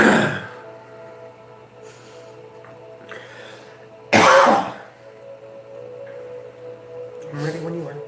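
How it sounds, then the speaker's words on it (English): A person clears their throat and coughs in a few short, rough bursts: one at the start, a sharp louder one midway and a softer one near the end, with quiet room tone between. "when you start, I'll stop coughing"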